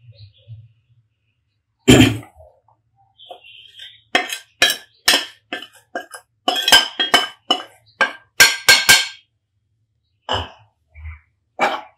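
Besan roasting in ghee is stirred in a pan, giving close, intermittent clinks and scrapes of a utensil against metal in irregular bursts separated by brief quiet gaps.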